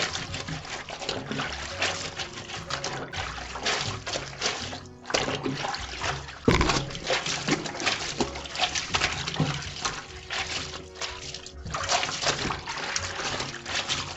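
Clothes scrubbed by hand in water, with sloshing, splashing and wet rubbing that come and go in bursts, fairly close and continuous.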